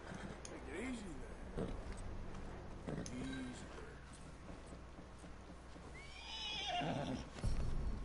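Horse whinnies several times in Red Dead Redemption 2, a snowy cowboy setting, with hoof clip-clops and a voice talking over the scene; a loud neigh near the end.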